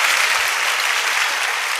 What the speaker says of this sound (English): A round of applause. Please, can you clap for her?